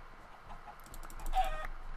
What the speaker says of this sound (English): there are tons of chickens down here